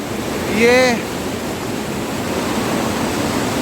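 Rushing river water beside a mountain trail in the Parvati Valley toward Kheerganga, a steady loud wash of noise, briefly overlaid by a short voice or whistle-like sound near the start.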